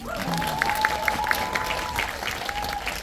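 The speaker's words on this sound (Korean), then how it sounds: "이정재 배우 박수 좀 주세요" Audience applause for actor Lee Jung-jae at a Korean film talk event for 12.12: The Day, steady crowd clapping with a faint sustained tone running beneath it and a few brief high blips, loud and continuous.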